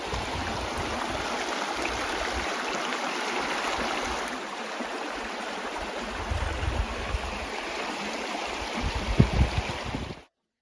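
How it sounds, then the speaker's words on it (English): Rushing stream water on a Mount Washington mountain hike, a steady broadband wash of flowing water heard continuously at moderate distance, cutting off abruptly near the end. "I believe I hear water."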